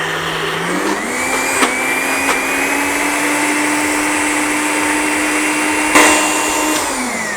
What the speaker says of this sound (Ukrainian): Для цього ми беремо блендер і починаємо робити з нього пюре з цього горошка